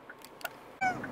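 A cat meowing inside a moving car, one short, close, strained meow at the end after faint cabin noise.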